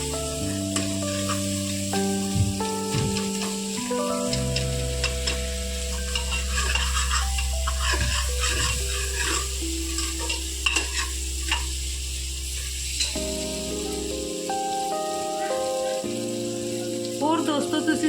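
Bottle gourd masala fries and is stirred in oil in a pan, a steady sizzle with repeated utensil scrapes and clinks against the pan, heard up close over background music with tonal lines.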